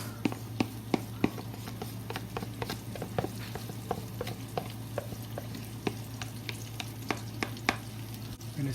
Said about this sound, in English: And stir fry.